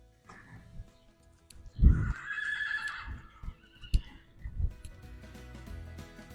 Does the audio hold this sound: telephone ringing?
no